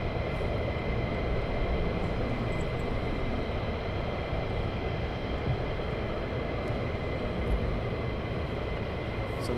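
A military jet taxiing at RAF Lakenheath gives a steady, broadband engine roar that holds level throughout, heard from a distance with no break in the drone.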